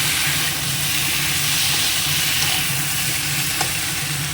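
Curry of vegetables sizzling in a pan as it is fried down, a loud, dense, continuous hiss of steam and frying that stays even throughout.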